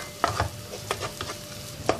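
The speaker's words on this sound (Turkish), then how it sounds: "bir yemek kaşığı salçamı ekliyorum" Tomato paste frying with onions and carrots in a pan: a soft sizzle with several sharp scraping stirs of a spoon at irregular moments, close by, with no talk.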